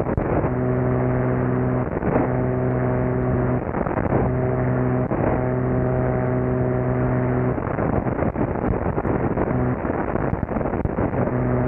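Twin engines and propellers of an Adam A500 aircraft in flight drone steadily and loudly, with strong stacked tonal hum that shifts pitch briefly as the props are pulled back, plus rushing wind, continuous throughout with no talk.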